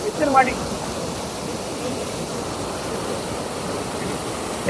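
Water from an LBP irrigation canal rushes under pressure in a steady, broadband gush, close and continuous, with a few brief voices near the start.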